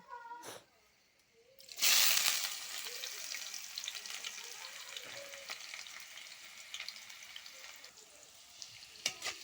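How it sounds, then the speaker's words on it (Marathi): Onion dropped into hot oil with garlic for a soybean dish: a quiet start, then a loud burst of sizzling that settles into steady frying crackle with occasional stirring clicks. "कांदा मस्तपैकी लाल होईपर्यंत भाजून घेऊया"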